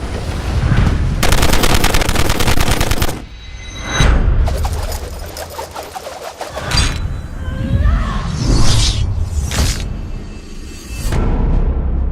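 Loud bursts of rapid movie-trailer gunfire alternate with booming impacts, metallic chain clatter and whooshing effects, dense and cinematic throughout.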